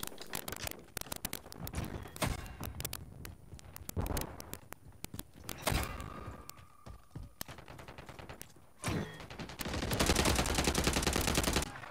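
Gunfire in Call of Duty MW3 beta on the Favela Hardpoint map comes as sharp, irregular cracks and rapid bursts scattered across the clip. It thickens into a dense volley near the end.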